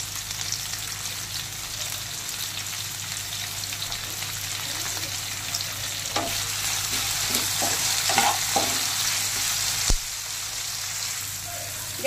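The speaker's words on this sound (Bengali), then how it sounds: "গ্যাসের ফ্লেম হাইতে করে ক্যাপসিকাম আর পেঁয়াজ একটু ভেজে নিয়েছি।" Capsicum and onion stir-fry on a high gas flame, giving a constant close sizzle with repeated scraping stirs of a spatula in the middle and a sharp knock toward the end.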